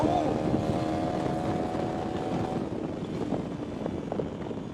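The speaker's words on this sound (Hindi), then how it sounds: "ये देखो अभी मैं फुल थ्रॉटल पे हूँ।" A 2025 KTM Duke 390 motorcycle engine is held at full throttle, giving a steady, loud drone with harmonic whine and wind rush over the whole stretch, with no pause or drop.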